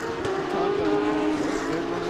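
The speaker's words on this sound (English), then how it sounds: "Yeah, here comes the Lambo." A Lamborghini GT race car in an International GT Sprint race at Road Atlanta drones with a steady, strong engine note, holding a sustained tone over a constant track roar with no clear fade or swell.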